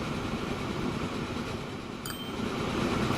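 A train running in Train Fever, a steady rolling rumble of wheels on track with a brief metallic clink partway through, heard alone without talk.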